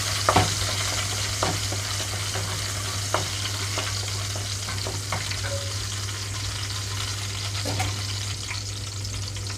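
Vegetables frying in hot oil over a high flame for fried rice made without sauces, a steady loud sizzle with occasional sharp crackles and stirring scrapes throughout, no voices.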